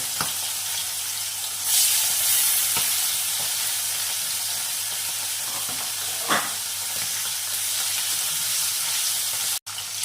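Tangra fish frying in hot oil, a steady close sizzle and crackle throughout, with occasional spatters and stirring clinks and a sharp click near the end, no voices.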